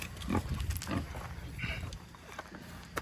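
A pig grunts and snuffles close by in a farm pen, giving a series of low, rough bursts mixed with shuffling movement.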